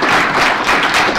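An audience breaks into loud, dense applause to welcome a speaker at a talk. The clapping is continuous and close, with no voices heard over it.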